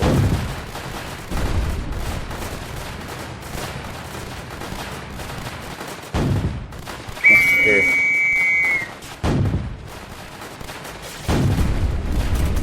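Bursts of gunfire and explosions from a tower defense video game recur several times, loud and sharp, with a brief whistling tone in the middle.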